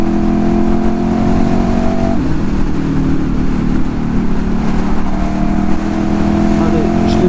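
A motorcycle engine holds a high, steady whine while riding, revved to about 9000 rpm, loud and close with wind and road rush throughout, the pitch dipping briefly partway through.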